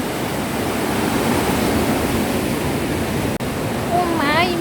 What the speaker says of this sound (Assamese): একদম সাগৰৰ ঢৌ নিচিনা চাউণ্ড হৈ আছে।